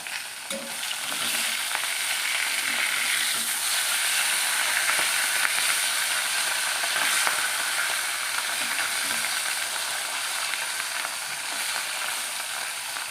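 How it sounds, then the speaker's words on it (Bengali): Chicken kosha stir-fried in a pan, a loud, continuous sizzle and hiss with faint scraping and stirring, steady throughout with no voices. "আপাতত রান্না চিকেন কষা হচ্ছে"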